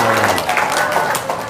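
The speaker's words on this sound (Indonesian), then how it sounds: "Tepuk tangan dong." Dense, continuous clapping from a crowd fills the whole moment, a steady rattle of many hands at close range, with some voices mixed underneath.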